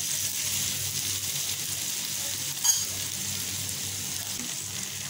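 Onions sauté in a pan for a traditional Kerala onion curry, giving a steady soft sizzle and hiss with a single brief clatter partway through, and no talk over it.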